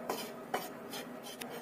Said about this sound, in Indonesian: Aduk sampai tercampur rata.